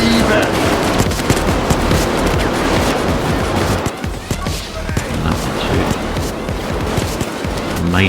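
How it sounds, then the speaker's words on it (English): Heavy gunfire shootout in Payday 2 on Xbox One during the Diamond heist, dense overlapping automatic bursts and single shots roaring continuously and loudly throughout, with brief voices mixed in. "Major shoot fest here."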